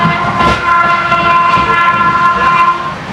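The Sealdah to Varanasi Amrit Bharat Express runs at speed near Shaktigarh. A loud, steady rumble of wheels and carriages continues throughout, with a sustained horn-like tone above it.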